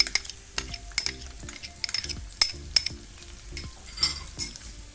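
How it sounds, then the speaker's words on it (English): Cashews, raisins and chironji sauté in a pan, with a soft sizzle under repeated sharp clinks and scrapes of a spoon stirring against the metal in an irregular rhythm, close and clear, with no voices. "And now we need to saute this. We have to roast these dry fruits till we get a nice aroma,"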